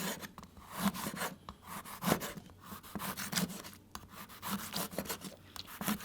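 A knife slicing thick-skinned yuja citrus fruit into thin pieces, a quiet series of soft, repeated cutting and rubbing strokes at close range.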